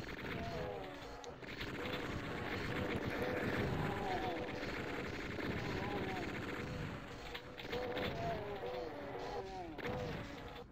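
Sustained gunfire from chaingunners on a Doom map: quiet, steady bursts of rapid shots mixed with heavier booms and game noise throughout.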